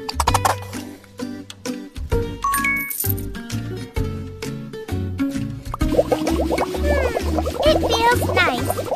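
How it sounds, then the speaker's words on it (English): A children's hair salon video game plays bubbly, plinking cartoon effects and chimes over a light musical backing as hair is washed, ending in a burst of foamy, swishing sounds. "First, wash my hair."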